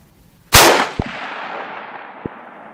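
A .338 Win Mag Thompson Center rifle fired with Federal ammunition: one sharp, loud report with a ringing, decaying tail, followed by two brief clicks or clanks.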